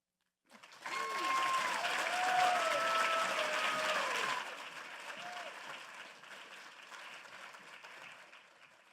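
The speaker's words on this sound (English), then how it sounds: "Can we all give our 4 amazing finalists another round of applause?" An audience at a Teacher of the Year celebration breaks into loud, sustained applause for the finalists with a few whoops, the clapping holding strong for several seconds before gradually fading.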